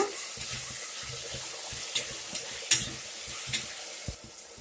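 Dill and curry leaves roast in hot oil in a pan with a steady close sizzle and crackle, broken by light stirring scrapes and a few sharp pops.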